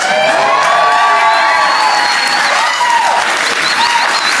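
A comedy show audience bursts into loud, sustained applause mixed with cheers and whoops, the clapping dense and continuous throughout.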